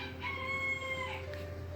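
A faint, distant rooster crow with steady harmonic tones is heard in a backyard chicken setting, low in level above a constant background hum.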